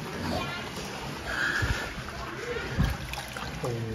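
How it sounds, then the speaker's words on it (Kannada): People bathe in a hot sulphur spring: soft water splashes and sloshing mix with chattering voices, including children, in a busy, echoing outdoor pool. "ಜನ ಎಲ್ಲ ಸ್ನಾನ ಮಾಡ್ತಿದ್ದಾರೆ"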